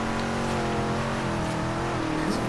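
A Jeep engine in the racing game Forza Horizon 3 during a rally-cross time attack: a loud, steady, high-revving drone with layered engine harmonics, continuous and close throughout, with no talking.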